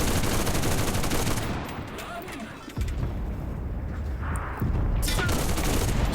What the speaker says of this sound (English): You can see machine gun fire, so I'm just firing across.